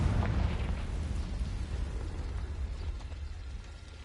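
A Confringo fire spell bursts in Hogwarts Legacy with a low rumbling blast that swells at the start and then rolls on as a crackling, grinding decay, fading steadily over a few seconds with no voices.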